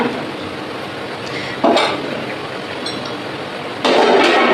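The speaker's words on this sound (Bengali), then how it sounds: "ঢাকা চাপা দিয়ে দিলাম।" A lid set down onto a pan of cooking bottle gourd greens, giving two short metallic clatters over a steady background hiss of the stove, with no talking.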